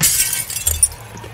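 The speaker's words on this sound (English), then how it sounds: "I'm gonna have to replace all of your windows because I'm smashing each one of them" Glass windows smash and shatter in the video game Secret Neighbor, a loud burst of breaking glass at the start followed by scattered tinkling debris and a couple of smaller impacts.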